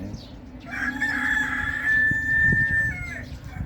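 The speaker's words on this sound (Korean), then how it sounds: "집에서 닭을 키우니까 닭 소리 이게 좀 많이 납니다" A home-raised rooster crows loudly and clearly, one long sustained call of about two seconds, over low rumbling background noise in a traditional root woodcraft workshop.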